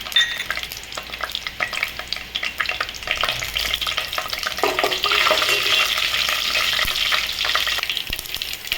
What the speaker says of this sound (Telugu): ఆవాలు అయితే చుట్టుపాట అంటున్నారండి